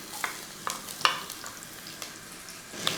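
Crushed shallots, ginger and green chillies fry in hot coconut oil for a Kerala-style curry, giving a close, bright sizzle broken by a few sharp stirring clicks.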